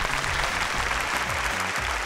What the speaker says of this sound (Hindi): तो जोरदार ताली आज के विजेता और उप